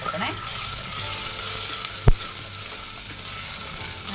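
Green chillies sizzle in hot oil in a pan while being stirred for a Kashmiri yakhni pulao, a steady close frying hiss with scraping stir strokes and one sharp clink of the utensil.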